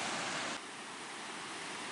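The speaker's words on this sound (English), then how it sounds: "The waves." Ocean waves washing onto the shore at Ocean Shores, a steady broadband surf roar that drops slightly in level partway through and continues without any voices.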